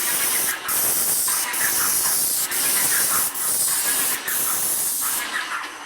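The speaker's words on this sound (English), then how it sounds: "Then I just have to move the paint sprayer and my stain and do the other two sides." A paint sprayer hisses steadily as it coats an outdoor shed with wood stain. The close, loud spray runs almost continuously, with a few very short breaks between passes.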